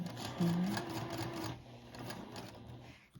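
Domestic sewing machine running a back stitch through finicky fabric, a fast rhythmic mechanical whirr that continues steadily and then eases off toward the end.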